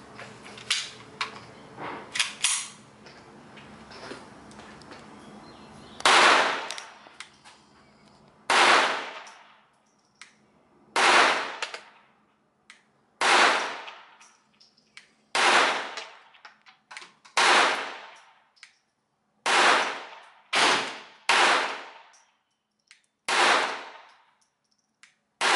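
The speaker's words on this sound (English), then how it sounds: "the slide hasn't been reciprocating back as needed to eject the round." A Taurus TX22 Compact pistol fires about a dozen sharp, loud shots outdoors, spaced irregularly one to two seconds apart, with small fainter pops at the start and short echoing decay after each shot.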